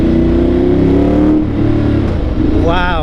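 Up close, the engine of a Ducati 1200 Multistrada Enduro motorcycle revs hard, its deep throbbing drone rising and falling, then ending on a sharp climbing rev.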